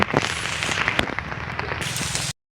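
Rain patters steadily on a nearby umbrella with scattered sharp drops and crackles, then cuts off abruptly.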